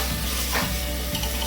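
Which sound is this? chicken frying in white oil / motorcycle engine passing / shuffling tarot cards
chicken frying in white oil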